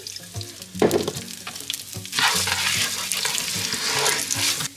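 Onion sautés in olive oil, starting with clinks and scraping, then swelling into a louder steady sizzle close by as it cooks.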